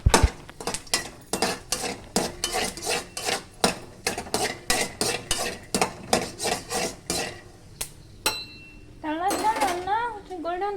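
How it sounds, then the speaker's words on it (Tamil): Peanuts roasting in a pan are stirred with a metal utensil, giving a fast series of close scraping, clinking strokes in a steady rhythm, with a brief voice near the end. "கடலைக்காய் போட்டுட்டு நம்ம ரோஸ்ட் பண்ணிக்கலாம்"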